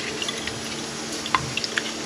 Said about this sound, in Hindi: अब डालेंगे पानी।